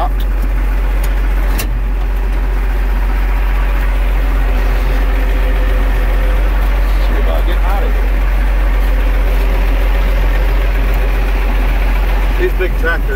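Allis Chalmers farm tractor engine idling with a loud, steady low rumble that runs unbroken throughout, with someone talking over it.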